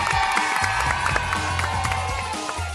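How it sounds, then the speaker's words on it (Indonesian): A studio audience on an Indonesian TV cooking show breaks into applause and cheering, a loud, dense burst of clapping mixed with excited shouts. "Tepuk tangan dong."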